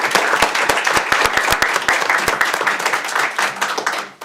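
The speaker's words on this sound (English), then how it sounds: "If we could all just give our board a round of applause." Audience applause for a school board fills a meeting room, a dense patter of many hands with a few sharp nearby claps standing out, steady and fairly loud before fading toward the end.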